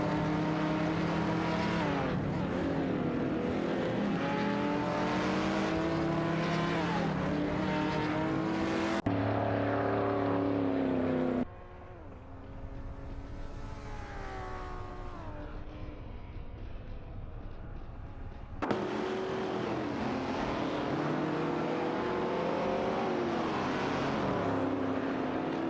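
Race cars in an AI racing video game scream past one after another, with high-revving engines rising and falling in pitch as they accelerate. A quieter gap in the middle gives way to another loud pass.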